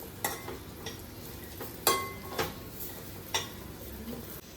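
Spice paste with garlic and ginger for mutton keema being stir-fried in a pan, with a few scattered scrapes and clinks of a spoon against the pot over a faint background sizzle, fairly quiet and without talk.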